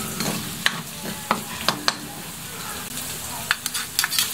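Ginger, garlic and onion fry in a hot pan while making batchoy, with a steady close sizzle and several sharp stirring clinks and scrapes scattered throughout.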